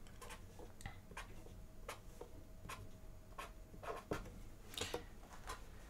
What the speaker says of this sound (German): ich zeichne hier nochmal kurz die Grafik hin